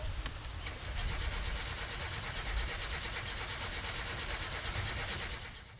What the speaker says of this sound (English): it was time to start her up again.